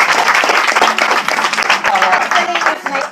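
An audience at a leadership talk bursts into dense, continuous applause, loud and close for about three seconds, with faint voices mixed in.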